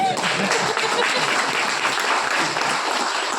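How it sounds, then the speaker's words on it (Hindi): An audience at a seminar on digital planning and income claps steadily, a dense, even patter of many hands filling the whole moment with no talking over it. "ताली बजाते हैं"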